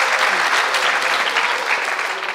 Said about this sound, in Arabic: صفقوا عليها